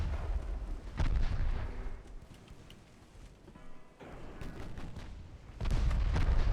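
Warship guns fire in the naval battle game Ultimate Admiral Dreadnoughts during a 1908 Caribbean engagement: heavy booming salvos at intervals, with rumbling decay between blasts over a low background.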